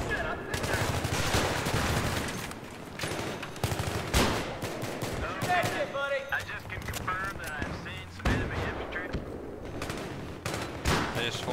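Automatic rifle fire and rattling bursts ring out on the Damavand Peak map in the video game Battlefield 3, dense and continuous under a busy battle mix of explosions and effects.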